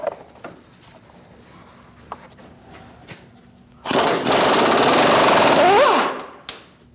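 A power tool backs out a control arm bolt with an E20 inverted Torx socket on a 2008–2014 Mercedes-Benz C300. It gives a loud, close, buzzing rattle of about two seconds, with light tool clicks and handling noises before and after.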